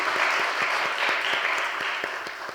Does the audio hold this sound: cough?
no